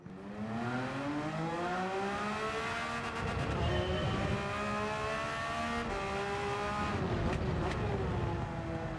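A race car engine in Gran Turismo 7 at Watkins Glen during a Daily Race, loud and close, with a steady high-pitched whine that rises and falls through gear changes and brief downshift blips.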